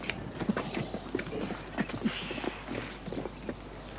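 Horse hooves clip-clop on a hard surface as the animal pulls a cart, a run of moderately close, uneven hoof knocks over a low background rumble.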